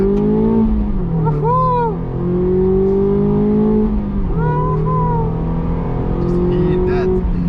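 A Mazda MX-5 ND with a 132-horsepower engine hums steadily and loudly, its engine pitch climbing and dropping across two or three shifts, while a voice talks over it.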